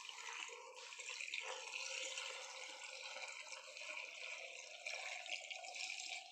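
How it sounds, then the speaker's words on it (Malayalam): Chilled water pours into a grape juice mix with sugar, giving a continuous, soft, close splashing trickle that runs steadily for the whole stretch without any talk. "ഇനി നമ്മൾ ഇതിനകത്തോട്ട് ഫ്രിഡ്ജ് വെച്ച് തണുപ്പിച്ച് കുറച്ച് വെള്ളം ഒഴിച്ച് കൊടുക്കുന്നുണ്ട്."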